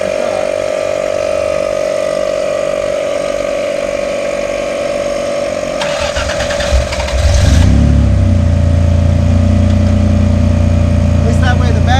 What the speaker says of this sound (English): Probably should start the truck.